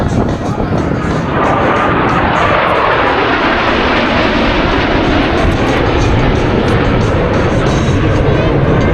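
Blue Angels jets approach the air show flight line at about 400 miles an hour, a loud, continuous roar that swells and builds across the whole stretch, with a faint announcer voice beneath it.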